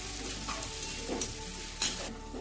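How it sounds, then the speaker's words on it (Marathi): Soybeans tossed and stirred in a frying pan during veg pulao cooking, a steady oily sizzle with a few brief scraping strokes of the spoon across the pan. "सगळं सोयाबीन टाकून घ्यायचं मस्त हलवायचं"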